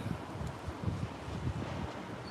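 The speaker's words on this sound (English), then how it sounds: "It's windy." Wind blows outdoors, buffeting the microphone in low, rumbling gusts that stay fairly faint and steady for a couple of seconds.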